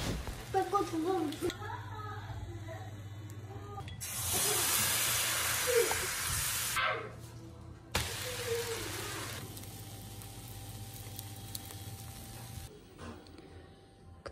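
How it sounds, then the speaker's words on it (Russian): Pancake batter frying in a home kitchen pan, with bursts of loud steamy hissing and sizzling that swell and fade twice, while someone talks over it. "я тут жарю блины"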